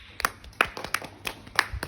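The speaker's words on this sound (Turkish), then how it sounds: "Bravo. Hmm. Alkış." Hands clap in a short, uneven burst of roughly half a dozen sharp, fairly close claps from a small group, irregularly spaced over a quiet indoor background.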